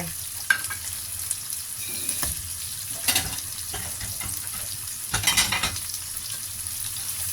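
Mussels and onion stir-fry in a hot pan for a Thai-Italian instant noodle dish, a steady close sizzle broken by a few louder scraping stirs of the spatula, with no talking.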